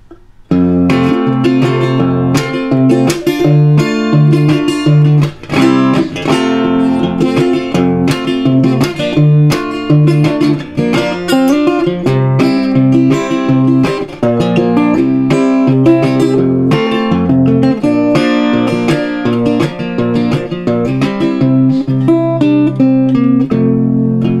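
A resonator guitar strums a chord progression, a dense, steady stream of loud, bright metallic chords with picked melody notes woven in, played alone without any talking.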